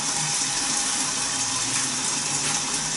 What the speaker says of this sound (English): I'm just going to put a little bit of water in there.